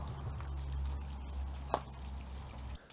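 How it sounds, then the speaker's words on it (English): Plants in pots fitted with homemade plant halos are watered in, giving a low steady rush and a brief, sharper splash of water midway, close by and without talk. "So we'll water these in"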